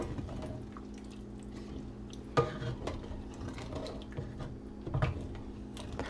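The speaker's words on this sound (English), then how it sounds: "it's going to loosen up everything that's on the bottom of this pan" A utensil scrapes and stirs across the bottom of a pan to loosen browned bits for Irish beef stew, with soft wet scraping and two sharper knocks of metal on the pan.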